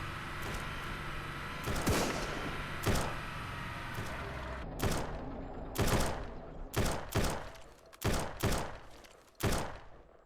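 Gunfire from bandit snipers in the zombie survival game Surroundead: sharp, loud shots crack out one at a time in an irregular rhythm, coming faster near the end, over a low steady ambient rumble.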